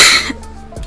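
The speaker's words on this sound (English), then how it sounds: "I'm sorry. I have a cough." One sharp, loud cough sounds up close, then quickly fades into near silence.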